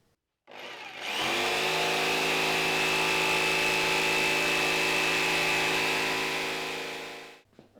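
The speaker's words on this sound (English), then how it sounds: "get the jigsaw out and cut it out" A jigsaw cuts a wooden template shape, its motor whining at a steady pitch for about six seconds after a brief spin-up before winding down; no talking.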